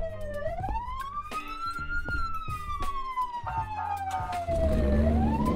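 A loud police car siren in Roblox wails, rising and falling in a long sweep, over a rhythmic engine hum, growing louder toward the end.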